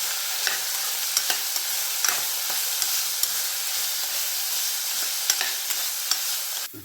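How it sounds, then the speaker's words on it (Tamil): Mixed vegetables with fresh peas fry in hot oil, a steady bright sizzle broken by repeated sharp scrapes and clicks of a spoon stirring the pan, close and continuous, no voices. "எல்லாத்தையும் நல்லா அந்த எண்ணெயிலே நல்லா குக் பண்ணிடுவோம்."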